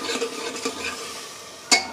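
Spices are stirred into a hot pan for dal khichdi, giving a short burst of scraping and light sizzle that ends in a sharp clack of spoon against the pan.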